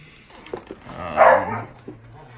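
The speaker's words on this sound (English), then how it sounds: "Sorry about the dogs." A single dog bark and some whimpering yips nearby, short and fairly loud against a quiet room.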